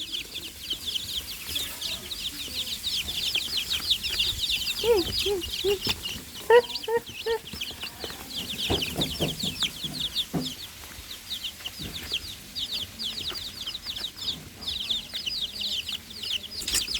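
Orphaned baby chicks peep in rapid, high, continuous chirps throughout, their mother taken by a fox, with occasional clucking and bumps from the pen mixed in nearby.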